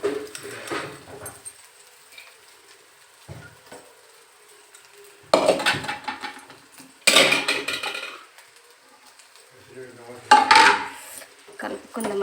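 Rice being stirred into a fried mixture in a pot, a few loud bursts of spoon scraping and clattering against metal separated by quieter gaps, with a voice speaking in between.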